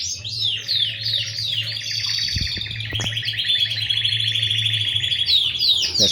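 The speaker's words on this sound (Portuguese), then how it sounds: "O vídeo de hoje está mostrando Canário, está mostrando periquitos." Canaries and budgerigars sing together in an aviary, a dense stream of bright trills and warbles with chattering over a low steady hum, close and continuous.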